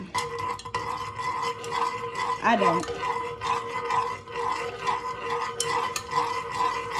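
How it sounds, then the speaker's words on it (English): A utensil scrapes and stirs melted wax around a pot in a steady circular rhythm, close up, with a brief voice breaking in partway through. "And we are going to stir this up."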